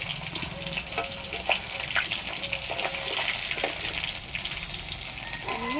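Koi fish fry in hot oil with green chillies and black cumin, making a loud, continuous close sizzle broken by the scrape and clatter of the pieces being stirred in the pan.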